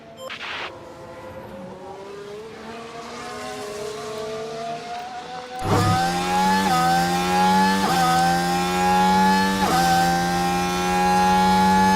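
Formula One car on a flying lap at Japan in F1 Manager 24 screams past, a high-pitched engine climbing through several upshifts with sharp gear changes, growing louder and closer partway through.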